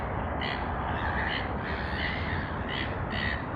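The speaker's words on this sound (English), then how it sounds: "Oh, these seagulls, they are creating a havoc over here." Seagulls near Sydney Airport give a series of harsh, repeated calls over a steady wash of background noise, at moderate distance.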